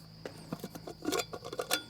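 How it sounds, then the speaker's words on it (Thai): A small Primus Essential camping pot set with gas stove being handled, producing light metallic clinks and rattles in an irregular patter, close but quiet. "ผมมีเตา กับหม้อชุดเล็กอยู่ในนี้อันหนึ่งนะครับ"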